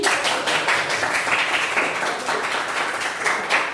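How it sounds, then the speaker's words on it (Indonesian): Classroom applause for a student, a steady patter of many hands clapping in quick uneven rhythm, fairly close and continuous with no talk over it. "Beri tepuk tangan untuk Adi."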